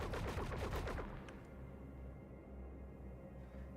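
A burst of ship cannon fire in the space game Star Citizen: about a second of rapid, loud repeated shots that cut off, leaving a low humming drone behind.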